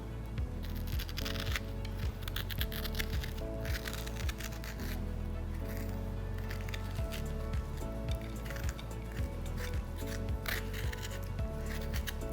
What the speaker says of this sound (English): we'll remove our seeds from the other one